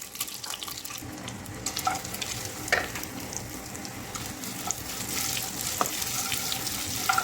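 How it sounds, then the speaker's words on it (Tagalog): Anchovies sizzle and crackle steadily in a hot pan as they fry until crisp, a dense, close hiss with small pops scattered throughout and no talking. "isangag po muna itong anchoby para maging crispy siya"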